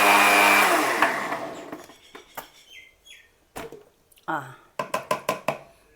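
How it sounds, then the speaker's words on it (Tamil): A kitchen mixer grinder whirs loudly as it grinds hemp seeds, then cuts off after about a second and is followed by scattered knocks, clicks and small clatters of the jar and lid. "இப்போ நான் கிரைண்ட் பண்ணணும்"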